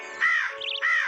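A crow caws twice, loud and close, with a brief warbling call between the two harsh tones, all within about a second and without talk.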